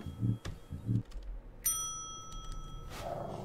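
A bright metallic ding from a service bell at a counter in Postal 4 sounds once, sharp and clear, and its tone lingers as it fades, with faint low room noise and a couple of soft thuds before it.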